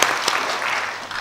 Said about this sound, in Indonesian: Tepuk tangan dulu dong, keren banget.